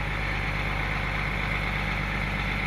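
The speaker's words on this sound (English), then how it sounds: "So you can see the engine speed will be dropped and the engine will be shut down" An excavator engine labours steadily with the stick held full close, a dense, continuous low drone with a steady hum and no pauses or voices.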